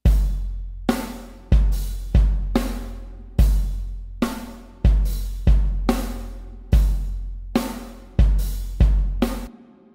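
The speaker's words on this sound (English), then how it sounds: "Let's listen to just the drums first with no processing." An acoustic drum kit, dry and unprocessed with no compression, plays a steady groove of punchy kick and snare hits, each hit decaying quickly, with no voices.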